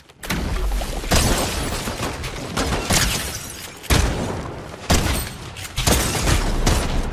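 Mythic pump shotgun firing in a video game, several loud blasts at irregular intervals, each a sharp broadband crack with shattering debris, over dense constant game action noise.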